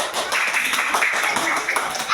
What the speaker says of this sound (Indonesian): Ke depan beri tepuk tangan.